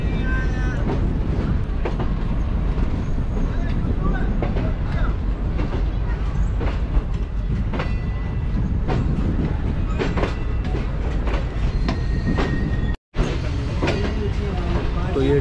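Aboard the Green Line Express as it switches from the platform line onto the main line, a loud continuous rumble of wheels on rails carries irregular clanks and clatters over the points, with a brief dropout near the end.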